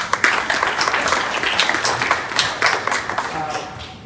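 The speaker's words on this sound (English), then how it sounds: "Let's give him a round of applause." An audience claps for an absent staff member at a park-and-ride groundbreaking ceremony, a loud, close burst of many hands with sharp individual claps that tails off near the end, with voices mixed in.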